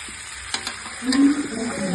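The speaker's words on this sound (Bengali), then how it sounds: "চিকেনের আলুটা ভাজা হচ্ছে" Potatoes frying in a pan for a chicken curry, a close steady sizzle with a few stirring scrapes, a faint voice in the background.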